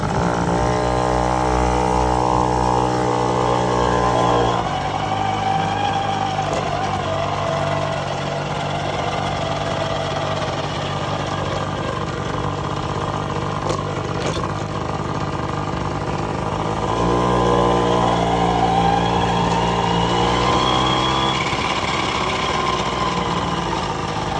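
A vintage Tomos moped engine idles steadily and close, a continuous buzzing putter with the revs rising briefly at the start and again near the end, heard alone throughout.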